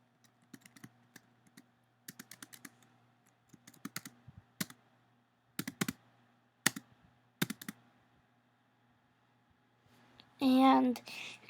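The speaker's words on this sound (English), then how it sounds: "let's take a sec to type everything in" Typing on a computer keyboard while setting up a Makey Makey extension, with short bursts of close, crisp key clicks separated by pauses and a brief louder noise near the end.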